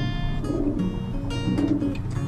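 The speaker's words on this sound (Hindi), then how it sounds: "ये गोल्डन चीन का कबूतर है" Low, soft cooing from a golden Chinese pigeon repeats a few times over a steady background hum.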